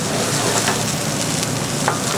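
Clams seasoned with salt, pepper and crushed red pepper sizzle in a pan, a dense, loud, continuous hiss and crackle heard close up with no talk.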